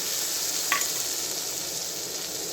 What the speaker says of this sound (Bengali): যে মশলাটা আমি তৈরি করে রেখেছি সেটা দিয়ে দিই, ভালো করে কষে নেব।